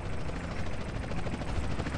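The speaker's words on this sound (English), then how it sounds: "Chopper inbound!" Helicopter arriving in the video game GTA San Andreas, a steady loud rotor and engine roar filling the whole clip with no talk over it.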